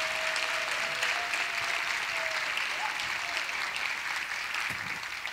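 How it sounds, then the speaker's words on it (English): Audience applause for choreographers at a fall dance extravaganza, a steady wash of clapping that holds at an even, moderate level throughout and eases slightly near the end, with no talking over it. "Just want to give them a round welcome and applause."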